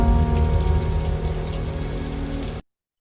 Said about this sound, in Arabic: عندي الفيديو وعندي صوت الخلفية وعندي مؤثر صوت المطر